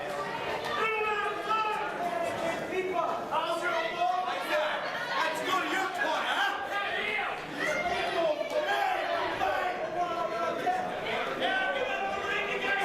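Wrestling crowd at a Rochester Wrecking Crew match against The Italianos, a dense steady roar of chatter and heckling voices filling the venue throughout, with no single voice standing out.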